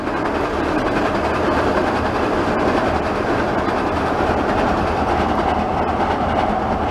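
A Waratah train crosses the Meadowbank rail bridge with a loud, continuous rumble and rhythmic wheel clatter that stays steady and close throughout, with no talk.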